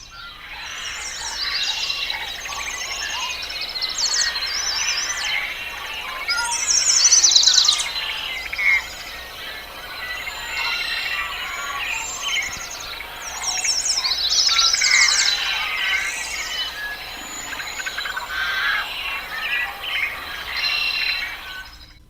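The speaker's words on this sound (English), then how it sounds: "here's an example of a dawn chorus in a marshland habitat" Many birds sing together in a marshland dawn chorus at sunrise, a dense continuous layer of overlapping chirps, trills and whistles at moderate distance with no voices.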